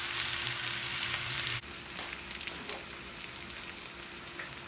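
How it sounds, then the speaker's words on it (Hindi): Masala-coated potato fries sizzle in hot oil in a pan, a dense, steady frying hiss that runs without a break, close and moderately loud, no voices. "फ्राइज़ हमारी फ्राई हो रहे हैं"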